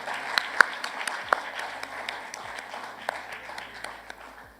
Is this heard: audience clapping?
yes